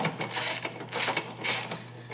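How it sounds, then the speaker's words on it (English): A hand ratchet tightens the mount bolt on a motorcycle bagger foot control, three bursts of rapid clicking strokes, close and clear with no talk. "just get a ratchet and we'll tighten this down."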